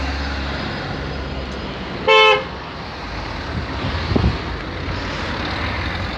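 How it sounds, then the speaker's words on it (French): A car horn blares once in a short, loud, steady blast of about a quarter second, standing out over a continuous bed of street and traffic noise. "Il y a tout le monde qui me klaxonne."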